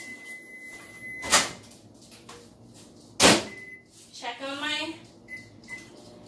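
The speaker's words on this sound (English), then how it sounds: "I'm going to put this in the microwave for 1 minute." A microwave oven heating hot onion dip: a door thumps shut, keypad beeps sound, and a second loud clunk follows before a low hum starts. A voice speaks briefly partway through.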